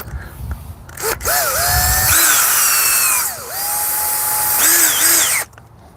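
A cordless power drill drives screws into the wooden frame of a chicken run, with several close, loud whirring bursts, each rising in pitch as the motor spins up and falling away as the screw seats, separated by short pauses.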